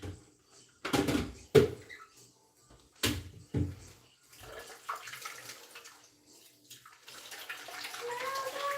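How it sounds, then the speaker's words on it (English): Water from a sink tap runs down the sides of a pot used for carrot ginger soup; a few sharp knocks and clatters come first, then a steady rushing flow builds and continues to the end. "I took it to the sink and just slowly ran water down the sides"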